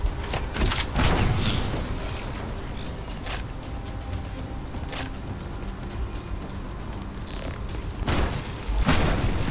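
KRM-262 shotgun reloading in Call of Duty: Black Ops III, a dense run of loud mechanical clacks, thumps and booms, heaviest at the start and end with busy clatter between.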